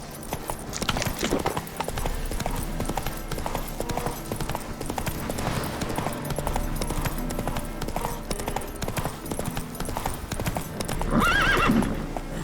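A horse gallops in The Witcher 3: Hearts of Stone, with rapid steady hoofbeats running throughout and a loud neigh near the end.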